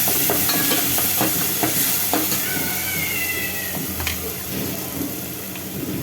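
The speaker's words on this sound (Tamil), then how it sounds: "தக்காளி ஒரு 2 அதையும் போட்டுக்கிறேன். இதை நல்லா வதக்கிக்கலாம்." Tomatoes sauté in a pan for Udupi rasam, a constant loud sizzling hiss with scattered clicks and scrapes of stirring, close by and with no speech.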